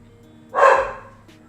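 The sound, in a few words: dog barking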